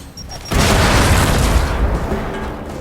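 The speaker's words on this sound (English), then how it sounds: "Throwing grenade!" A grenade goes off in the video game Gears 5 as one sudden heavy boom, followed by a loud roaring rumble that fades slowly over a couple of seconds.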